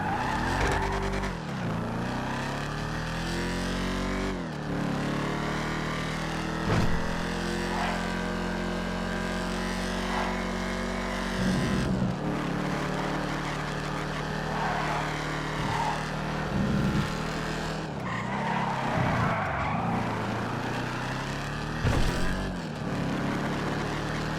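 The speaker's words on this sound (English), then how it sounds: "this is the Dominator GT. Let's test drive this thing out." Dominator GT race car in a driving video game, engine roaring steadily for the whole stretch with repeated tire squeals and skids as it slides through corners, loud and close.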